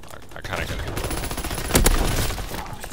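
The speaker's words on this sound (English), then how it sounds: "The artillery guns. Boom." Booming artillery fire in a WW2 shooter game, a burst of loud gunfire blasts peaking near the middle of the clip over a dense, continuous battle din.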